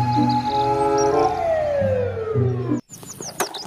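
A toy fire truck wails with an electronic siren, a loud close tone that slides downward before cutting off abruptly, followed by a few brief chirping sounds.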